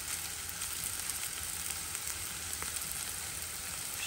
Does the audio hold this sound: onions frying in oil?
yes